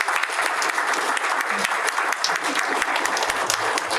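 Sustained audience applause following a kung fu demonstration at a Diversity Day event, dense steady clapping from a crowd that stays loud and even throughout with no pause.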